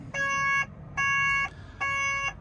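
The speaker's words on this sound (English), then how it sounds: "I'll knock that annoying buzzer off." Three evenly spaced electronic warning beeps, each about half a second long, come from a vehicle dashboard buzzer sounding after an AdBlue SCR malfunction. The tones are clear and steady, with quiet gaps between them and no talk.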